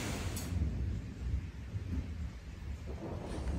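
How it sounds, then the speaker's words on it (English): Low rumbling thunder rolls on and off through a rainstorm, a dull bass roar with a steady hiss of rain underneath. "Well, we're getting our rain. And some thunder."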